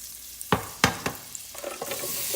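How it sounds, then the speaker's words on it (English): Butter melting in a hot pan gives off a soft, steady sizzle, broken early by a few sharp utensil knocks against the pan, then lighter scraping and clinks. Close and fairly quiet, with no talking. "Butter makes everything better. I'm gonna let that melt down."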